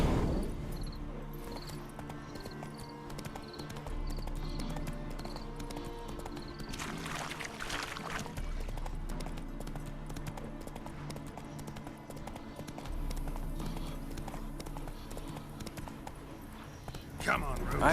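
Horse hooves clip-clop at a walking pace in The Witcher 3: Wild Hunt Hearts of Stone, a steady beat running the whole way under game music and dialogue voices, briefly punctuated by a louder noisy burst.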